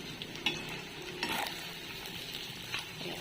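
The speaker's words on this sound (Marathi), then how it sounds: "चांगलं भाजून द्यायचं आता आपल्याला भाजत आले" Egg bhurji frying in a pan in a village-style home kitchen, with a steady sizzle and a few sharp scrapes and clinks as a spatula stirs it, close and alone without talk.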